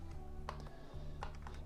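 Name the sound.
typing on a Casio calculator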